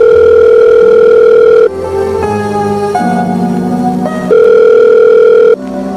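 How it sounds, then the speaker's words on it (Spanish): Telephone tones on a phone call to a mother, a loud steady tone broken by shorter changing tones, then the steady tone returns before another shift. "fui directamente al teléfono a llamar a mi madre"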